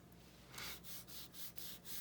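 Paper being rubbed down by hand while crafting an ephemera holder with vellum pockets, heard as a quiet run of about five even back-and-forth strokes with no talk.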